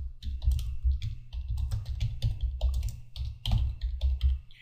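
Steady typing on a computer keyboard, close-up with rapid irregular key taps and a few pauses between bursts.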